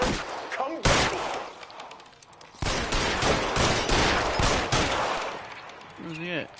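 Bursts of gunfire from the video game LA Noire Remastered crackle in rapid, dense volleys, with a loud opening burst and then sustained shooting through the middle. Brief voice-like tones cut in near the end.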